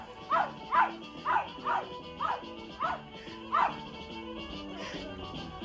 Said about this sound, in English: Notice she's only barking at David, not at Melanie